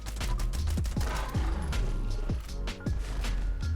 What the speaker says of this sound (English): I am also going to be using the same 2-star legendary fixer, and we should be able to take him out here in just about 10 shots